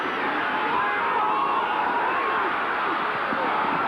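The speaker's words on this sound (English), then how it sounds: "trying to be heard over the crowd noise on a 1st down play" At a 1988 NFL game between the Indianapolis Colts and the Buffalo Bills, a steady, dense stadium crowd roar fills the air without a break, like a broad rushing wash of many voices.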